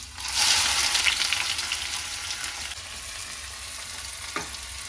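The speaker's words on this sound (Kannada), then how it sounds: "ಇವಾಗ ಈರುಳ್ಳಿನ 1 ನಿಮಿಷದವರೆಗೂ ನಾನು ಫ್ರೈ ಮಾಡ್ಕೊಳ್ತೀನಿ" Two chopped onions fry in hot oil that was heated for chole, sizzling loudly and steadily up close as they are stirred, with a light scrape near the end.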